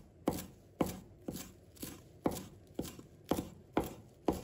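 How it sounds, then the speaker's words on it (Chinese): Cilantro being cut into short lengths on a board, with eight crisp knife chops at an even, unhurried pace, each close and distinct against a quiet background. "把它切成小段"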